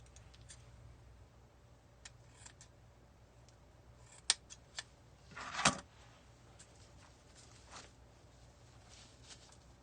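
Scissors trimming the tail of a grapevine holiday wreath, a few sharp close snips followed by a brief louder cutting burst, then quiet.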